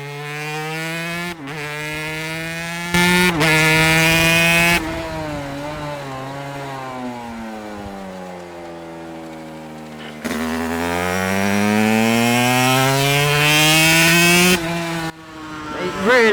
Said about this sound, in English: And you got that lovely 2-stroke sound.